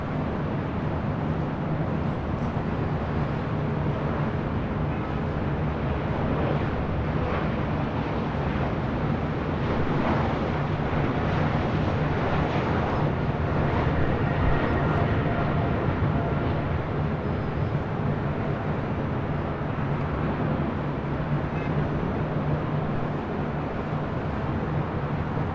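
An Air China Cargo Boeing 777 freighter taxis at LAX, giving a continuous loud, broad jet roar that holds steady throughout with no voices.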